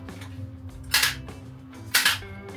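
Tokyo Marui Type 89 gas blowback airsoft rifle fired from a bipod: two sharp, separate reports about a second apart, each a crisp snap with a brief mechanical clack, close to the mic over low background hum.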